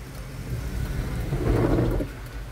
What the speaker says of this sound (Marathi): मस्तपैकी पाऊस चालू आहे.